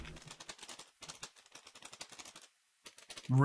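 Rapid clicking keystrokes on a computer keyboard, close and steady, with a short pause near the end before a louder sound cuts in.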